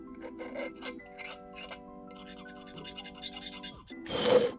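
Short raspy scraping strokes of an X-Acto knife against hardened epoxy on a tumbler, repeated in bursts close up, over a faint steady electronic hum.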